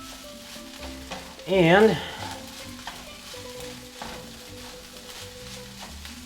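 Egg is broken up and stirred into fried rice in a hot pan, giving a soft sizzle and spatula scraping under occasional speech, fairly faint throughout.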